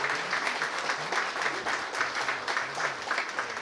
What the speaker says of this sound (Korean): 박수 한번 네, 박수 한번 주세요